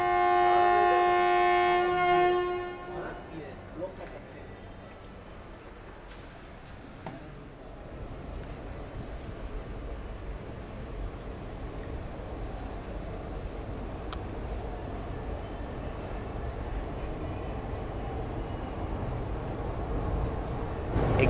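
The Night Queen Express sounds a loud, sustained horn blast for about two seconds, then the train rumbles on with a steady, broadband rolling roar and faint clatter over the tracks.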